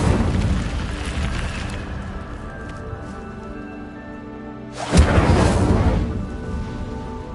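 A fire spell cast in Hogwarts Legacy bursts out as a loud whooshing blast near five seconds, rising over a steady layer of game ambience and music, then fading gradually.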